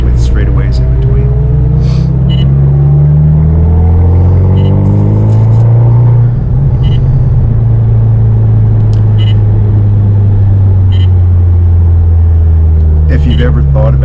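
A car drives the Circuit of the Americas race track through a series of sharp turns, its engine rumbling loud and close with pitch rising and falling as it slows and accelerates, no voices heard.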